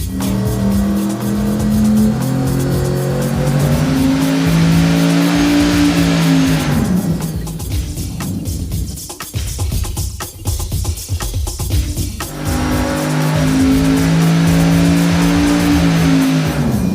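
A race engine on a dynamometer, tested with an intercooler and water-methanol injection, revs hard with a loud sustained roar and climbing pitch, drops back for several seconds, then pulls loudly again.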